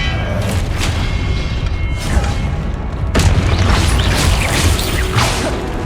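Blasting spell explosions in Hogwarts Legacy combat, deep booming blasts with crashing debris and whooshing spell sounds, one sharp loud impact midway followed by continued rumbling action.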